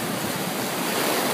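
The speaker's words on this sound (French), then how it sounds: "il y a des bonnes vagues" Ocean waves wash onto the beach at Hallandale, Florida, a steady, even roar of surf with no voices.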